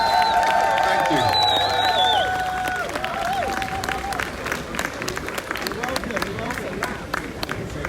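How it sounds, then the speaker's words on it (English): Crowd applause at a Sankofa Day gathering, clapping swelling under lingering tonal sounds and then carrying on as dense, steady clapping with some crowd noise for several seconds. "can you give a big, massive applause to everyone who made affirmations as well?"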